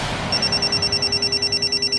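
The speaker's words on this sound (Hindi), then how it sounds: "एक दिन देर शाम अंजलि के फोन पर उसके भाई का कॉल आता है" A telephone rings as a sound effect in a Hindi horror audio story, with a rapid electronic trill pulsing steadily for the whole stretch, loud and close.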